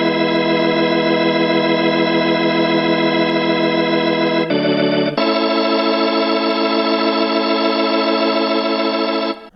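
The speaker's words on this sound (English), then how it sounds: "we got this cool organ that plays at the second half of the verse" A sustained organ part from the second half of a verse in a song, with dense steady tones held loud and continuous, a brief dip in the texture midway, then resuming to the end with no voices.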